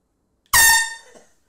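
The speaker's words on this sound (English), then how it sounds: "Air horn. Actual air horn." A single loud blast from a handheld air horn starts suddenly, holds its blaring pitch for about half a second, and fades out with a faint tail.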